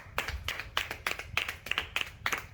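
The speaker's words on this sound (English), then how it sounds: "A round of applause for Team B, please." A small audience at a cash-prize quiz battle claps for Team B, with about eight distinct, evenly spaced rhythmic claps at close range, each sharp and clear with little crowd noise.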